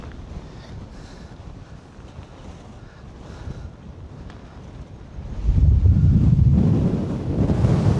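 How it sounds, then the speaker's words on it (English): Strong wind on the Malvern Hills buffets the microphone with a constant rough rumble, swelling into heavier gusts partway through. "But it is extremely windy."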